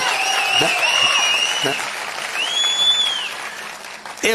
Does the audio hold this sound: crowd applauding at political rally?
yes